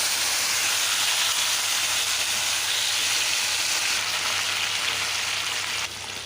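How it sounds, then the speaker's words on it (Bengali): Washed vegetables fry in hot oil with black cumin, a loud, steady, close sizzle and hiss throughout, dropping slightly near the end, with no talking. "এখন এই সবজিগুলো ধুয়ে রেখেছিলাম এখন আমি এটাকে একটু ভাজা করে নেবো"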